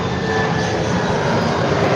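Airplanes pass overhead with a loud, continuous engine drone and a broad rushing roar, carrying steadily and close for the whole two seconds with a faint whine above it.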